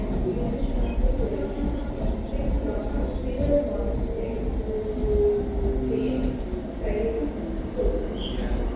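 A London DLR train running between Tower Gateway and Beckton, heard from inside as a steady loud rumble with rising and falling motor whine, faint voices in the carriage.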